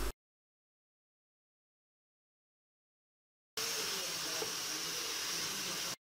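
Red amaranth greens with salt, green chilli pieces and chopped onion simmer under a lid in a pan. After a stretch of silence, a steady, even hiss holds for a couple of seconds and then stops abruptly.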